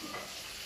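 Fish rolled in batter frying in a hot pan, with a steady dense sizzle and stirring running the whole moment, fairly close and alone.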